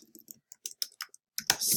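Quick bursts of typing on a computer keyboard, a dozen or so close, crisp key clicks in an uneven rhythm with short pauses, ending in a louder flurry, no talk.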